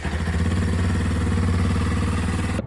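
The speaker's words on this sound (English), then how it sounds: "I'm gonna let this bike run for about 5 minutes" A 2023 Kawasaki KLX230sm motorcycle engine running after an oil change, a steady close putter at idle with even pulsing, cutting off abruptly at the end.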